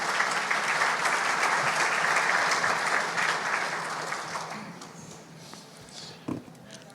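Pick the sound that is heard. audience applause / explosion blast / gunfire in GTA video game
audience applause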